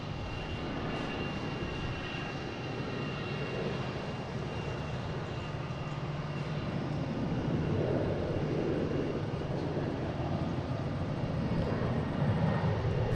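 An Alaska Airlines jet roars overhead at Boston Logan International Airport, a steady broad engine rumble holding at an even level throughout.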